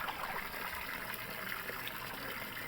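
Water poured over a child's head to wash out lice, a steady close trickling and splashing stream running the whole time without a break.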